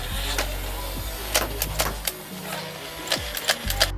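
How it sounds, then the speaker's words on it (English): A DartZone Cornerfire semi-auto, cylinder-fed flywheel toy blaster spins up and fires in quick bursts, with sharp mechanical clicks and snaps over a low flywheel hum. It is fairly quiet, close, and has no talk. "it's a semi-auto flywheeler, 10 shot, cylinder fed blaster that can do this"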